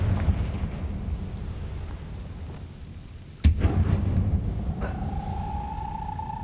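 A Confringo blasting spell in Hogwarts Legacy detonates with a sudden sharp crack, then a booming rumble that lingers over low background rumble, with a second smaller burst and a rising magical tone after.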